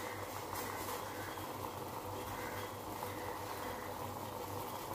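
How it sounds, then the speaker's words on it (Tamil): Lemon tea water bubbles in a pot on the stove, a steady soft boiling hiss and gurgle continuing quietly throughout. "கொஞ்ச நேரம் கொதிக்கட்டும்."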